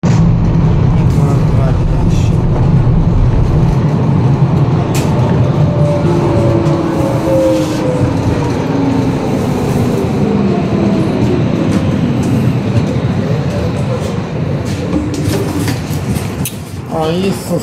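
A city tram arrives and rolls past close by, with a loud, sustained rumble and a rising and falling rail whine. People talk over the noise.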